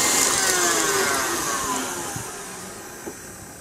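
An electric mixer beats lime cheesecake filling with lime zest and vanilla, giving a steady, loud whirring hum that runs alone and slowly fades a little.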